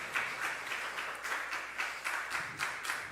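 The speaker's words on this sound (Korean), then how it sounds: "우리 한 번 더 뜨겁게 박수 부탁드리겠습니다." A church congregation at a dawn worship service claps together, steady applause of many hands with slight surges, moderately loud and unbroken, no voices over it.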